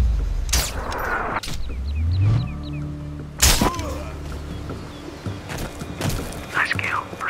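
Sniper rifle shots in the Xbox 360 game Sniper: Ghost Warrior ring out as several sharp, loud reports spaced a few seconds apart, over steady in-game ambience.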